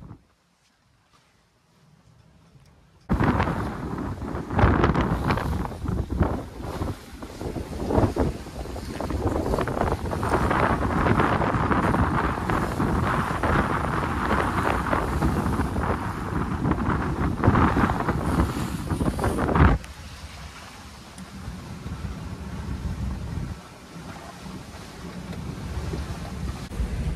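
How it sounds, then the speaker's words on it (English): Strong wind buffets the microphone aboard a sailboat under way, a loud steady rushing roar with water noise that starts abruptly and drops off sharply near the end. "We've got wind has picked up, actually, per the forecast."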